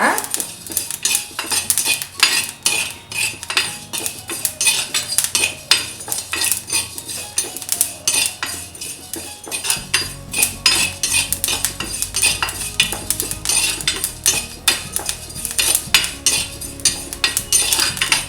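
Fennel seeds being dry roasted in a pan for mutton chukka masala, heard as a busy, continuous metallic scraping and clinking of a spoon stirring in the pan, close and fairly loud.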